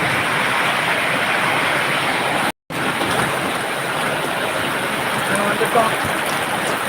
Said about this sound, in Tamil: சரியான மழை பெஞ்சுக்கிட்டு இருக்குது